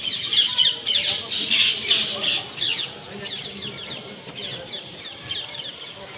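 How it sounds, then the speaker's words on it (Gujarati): A parrot squawks repeatedly in short, harsh bursts at dusk near a temple, loud and close at first, then continuing more softly at an uneven rhythm. "આ પોપટ છે એવું બોલે સંભળાય"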